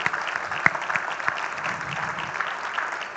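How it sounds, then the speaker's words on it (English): An audience at a school's annual function and prize-giving ceremony applauds after a stage performance, steady close clapping from a crowd throughout, with a few sharper individual claps standing out. "Let us give a thunderous round of applause for this spectacular exploration of the 7 ages of man."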